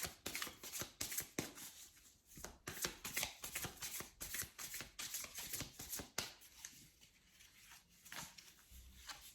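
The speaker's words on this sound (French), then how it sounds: "Je vais maintenant reprendre 3 cartes du Modern Love Tarot pour recouvrir ces 3 rangées" Modern Love Tarot cards being shuffled and drawn by hand, a steady run of quick papery riffles and flicks close up, with brief pauses between bursts and no talking.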